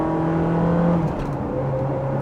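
Manual Ferrari 360 supercar driving with a steady engine drone that rises in pitch as it revs, then settles into a lower cruise, heard from close by and without talk.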